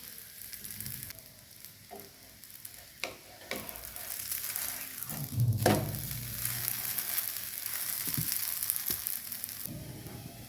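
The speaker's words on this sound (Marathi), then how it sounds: "दोन्हीकडून आलटून पलटून भाजून घेऊया." Mung bean and rice dhirde pancakes frying on a pan, a continuous close sizzle with occasional scraping taps as they are flipped from side to side.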